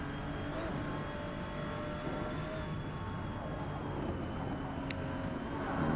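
Porsche GT2 race car in Forza Motorsport at Maple Valley, its engine droning steadily and loud throughout with a continuous broadband roar and slight pitch changes as it brakes, no voices.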